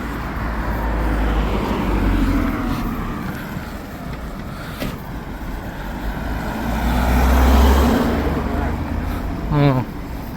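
Road traffic on a busy city road rumbles steadily as cars and heavier vehicles pass close by, swelling loud as one goes by, with a voice speaking at times.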